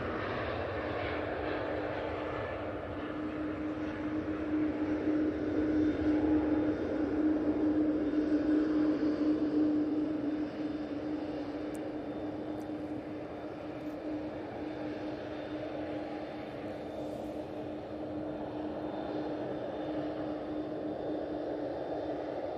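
EasyJet Airbus A321neo taking off at Manchester Airport, a sustained broad jet engine roar with a steady tonal whine, swelling in the middle and then holding as the aircraft climbs away.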